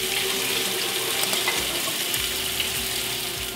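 Water poured into a cooking pot already holding chicken broth for a Cambodian sweet and sour catfish soup, a steady close splashing stream with no talk.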